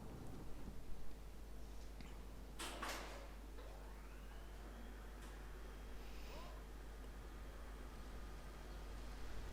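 Thunder rolls through a stormy night in the video game GTA III. A single faint crack and rumble sits low under steady background noise.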